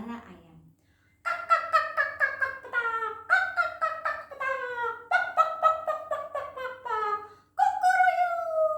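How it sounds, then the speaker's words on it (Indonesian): Chickens clucking, heard as groups of rapid, rising-and-falling clucks that repeat after a brief quiet opening and continue steadily and fairly loud to the end. "Siang itu terdengar suara-suara ayam."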